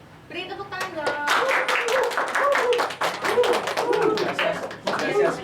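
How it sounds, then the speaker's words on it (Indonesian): A few hands clapping irregularly in a classroom, close and fairly sharp, with people talking over and between the claps. "Beri tepuk tangan dong."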